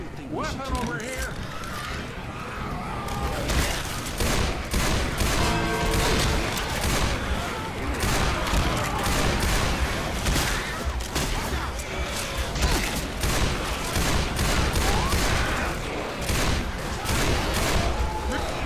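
Dense gunfire in the Left 4 Dead 2 Realism Versus game mode, with rapid, continuous weapon shots and crashes running throughout at steady loudness while players talk over the action.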